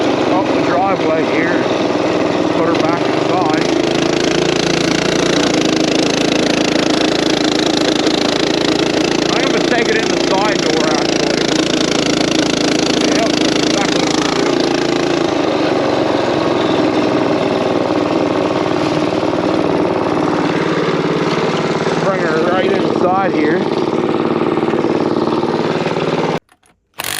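A vehicle engine runs steadily as the vehicle is driven up a driveway, a loud, continuous buzzing drone close by that cuts off abruptly at the end.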